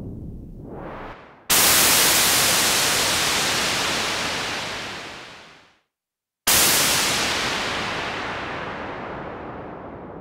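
A synthesizer noise oscillator produces loud, bright white noise in two long bursts, each starting abruptly and slowly fading, with a brief silent gap between them.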